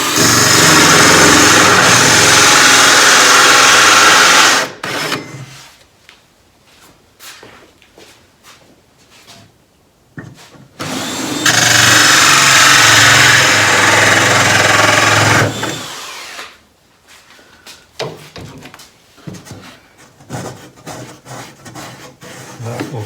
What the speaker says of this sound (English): So I'll start by drilling this hole through here.